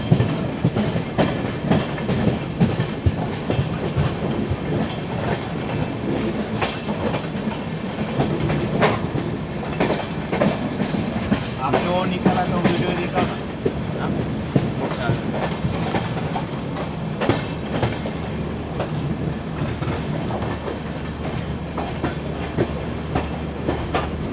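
Poorna Express rumbles along the rails toward Thrissur, heard from inside an AC 3-tier coach as a continuous loud clatter with rhythmic wheel clicks over rail joints, carrying on steadily throughout.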